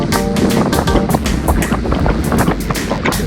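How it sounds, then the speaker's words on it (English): Wind rushing past a rider's microphone during a cycling group ride, loud and gusty with uneven buffeting throughout. "You hear the wind."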